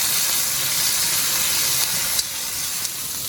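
Steady, loud hissing and bubbling like water boiling hard in a pot, continuous throughout with a couple of small clicks.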